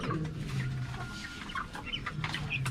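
Free-range backyard chickens cluck and murmur continuously around a new feeder and coop, several birds close by in a soft overlapping chatter with no talk.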